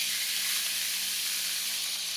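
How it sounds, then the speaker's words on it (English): A seasoned, juicy rib eye steak sizzles in a hot pan, giving a steady, dense, bright hiss that fills the whole stretch without break or talk. "and you hear that sizzle."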